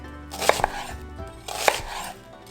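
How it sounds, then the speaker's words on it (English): A knife chops a whole onion on a cutting board for lasagna sauce, a close run of crisp, rhythmic thuds with no talking. "We're gonna cut one full onion, and then we're gonna cut a bunch of garlic."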